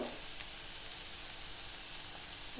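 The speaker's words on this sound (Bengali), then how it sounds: "এটা 1 মিনিট ধরে আমি কষিয়ে নেব" Spices sizzle steadily in hot oil while khatla fish kalia is cooked Bengali style, a soft continuous frying hiss with no break, heard close and alone.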